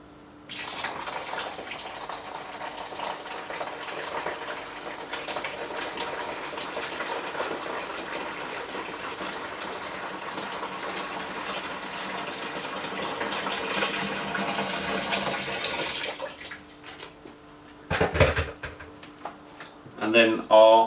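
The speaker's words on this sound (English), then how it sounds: "Next, we're going to add 3 litres of hot water." Three litres of hot water gushes steadily into a plastic cider fermenter for a Mangrove Jack's strawberry and pear cider kit, a continuous loud pour lasting about sixteen seconds before it stops, followed by brief clunks.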